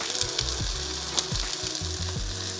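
Broccoli and wide rice noodles stir-fry together in a hot pan for pad see ew, a steady loud sizzle broken by scraping stirs and clanks of a utensil.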